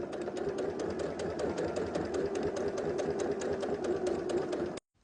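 A sewing machine stitches quilt binding in a fast, steady mechanical whir with regular needle clicks, close and continuous for about five seconds before stopping abruptly.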